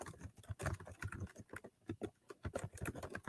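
Typing on a computer keyboard, a quick, uneven run of close clicks and taps with brief pauses between bursts, and no one talking.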